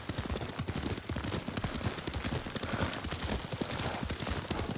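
Rapid, steady clip-clop of horse hooves at a gallop in the video game Ghost of Tsushima, close and continuous, with a faint rushing background.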